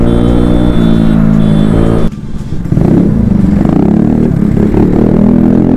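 A Kawasaki ZX-10R superbike rides at speed and overtakes, its engine droning loud and close, then dropping briefly before roaring back with a clattering, revving pitch.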